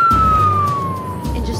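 An ambulance siren wails loud and close in rain-flooded Manila, a steady tone gliding slowly downward over a low rumbling engine and road noise.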